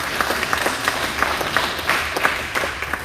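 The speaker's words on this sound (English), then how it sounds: "Let's give John again another round of applause." A round of applause at a monthly meeting, a modest group clapping steadily with distinct individual claps standing out across three seconds.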